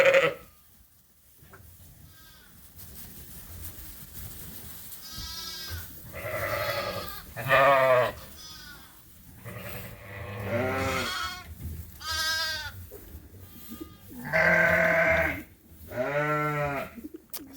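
Lambs bleating during lamb races in a barn: repeated close, loud bleats in bursts, several animals calling over one another with short quiet gaps between calls.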